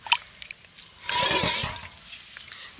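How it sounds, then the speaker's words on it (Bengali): Water poured and swished over freshly made butter in a bowl, a rushing, splashing burst lasting about a second amid small drips and handling clatter. "আবারও জল দিয়ে দেব দিয়ে এইভাবে ভিতরের যে এক্সট্রা দুধটা রয়েছে সাদা অংশটা সেটাকে আমি ভালো করে ধুয়ে নেব"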